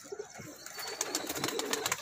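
Soft cooing of Teddy pigeons and gentle bird sounds close by, mixed with rustling and light fluttering noises.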